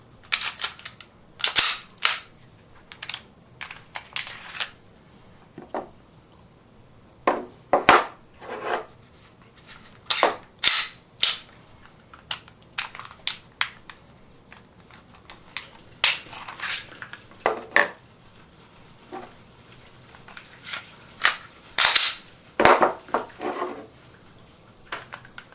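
A Ruger RXM pistol fired at a shooting range, sharp close shots coming singly and in quick clusters with uneven pauses between strings, and no talk over them.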